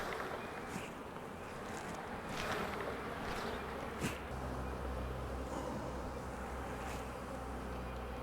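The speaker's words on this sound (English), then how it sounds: "I'm gonna shake these bees in." Honey bees, nurse bees shaken off frames of eggs and larvae into a hive, fill the air with a dense continuous buzz at close range, with a soft thump partway through.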